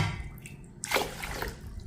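Water is poured into a bowl of Mappillai Samba rice, a short splashing gush starting partway through after a quiet start, close by.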